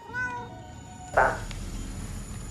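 A cat meows once, loud and close, after a stretch of tonal background music, then the scene settles into a low steady rumble.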